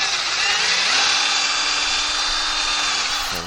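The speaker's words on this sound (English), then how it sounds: "We're going to use the countersink bit." A power drill fitted with a countersink bit bores into wood, a close, loud steady whine that dips slightly in pitch as the bit bites, then winds down at the end.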